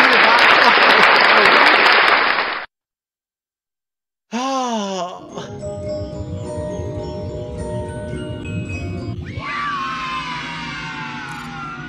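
Applause sound effect at the end of a night in Five Nights at Freddy's Help Wanted, a dense burst of clapping for about two and a half seconds that cuts off abruptly, followed by silence and then game music and sounds.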